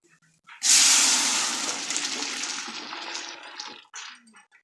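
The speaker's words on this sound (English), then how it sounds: "now I'm going to drop in my broth" Broth poured into a pot of greens for a Thanksgiving side dish, a sudden loud splashing pour that settles into a steady liquid rush for about three seconds, then stops with a short trailing splash.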